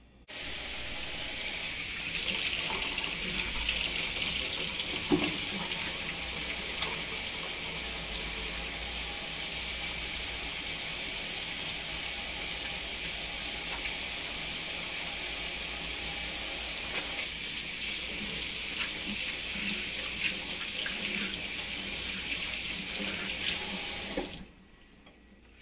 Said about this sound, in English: we have to do a very important thing, which is to wash our hands